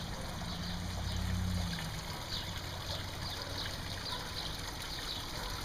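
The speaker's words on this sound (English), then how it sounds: "I'm really pleased with this waterfall" Water trickling steadily down a newly built backyard pond waterfall, a soft continuous splashing and dribbling at moderate distance with no voices.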